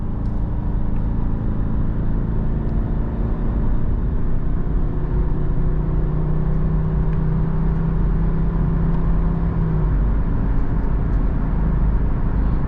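A 2013 Subaru Outback 2.5i Premium accelerates on a highway, heard from inside the cabin as a steady low engine hum with rising drone and road noise, continuous and moderately loud with no talking.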